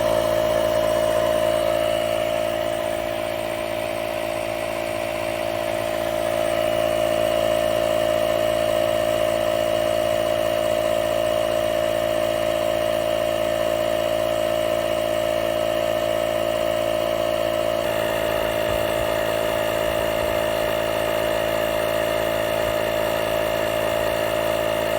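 A DeWalt cordless unit, either the 20V DCC020IB inflator or the 60V 2.5-gallon DCC2560 air compressor, runs nearby with a steady mechanical hum and whir. The tone holds level for the whole stretch, with no voices.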